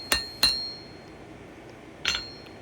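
A hammer strikes a high-carbon steel herb-chopper blade near the edge of an anvil in a blacksmith's forge. Two quick ringing blows are followed by a pause and a third metallic strike, and each one leaves a faint high ring.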